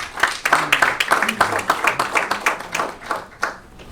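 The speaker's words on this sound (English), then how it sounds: "A round of applause for them." At a Men's Day event, a small group claps in distinct, uneven hand claps for about four seconds, with voices mixed in.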